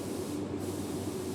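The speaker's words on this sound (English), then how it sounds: "I've got the gauge on the back of the gun, and it was feeling like it wasn't spraying smooth" Steady broadband hiss of a paint spray gun set around 28 psi, spraying continuously and close during a car paint job, with no pauses or voices.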